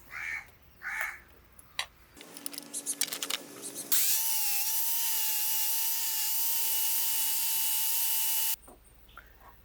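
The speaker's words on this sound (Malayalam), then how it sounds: "നമുക്കൊന്ന് കൗണ്ടർ ചെയ്തെടുക്കാം കൗണ്ടർ ബിറ്റ് ഇട്ടിട്ട്" A power drill fitted with a countersink bit works a metal speargun arrow part: some taps and handling noises, then a steady high whirring drone that runs about four and a half seconds before cutting off, close and loud.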